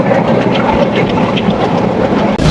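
The Mongla commuter train runs at about 80 km/h, making a loud, steady, unbroken rumble of wheels and carriage noise heard from on board.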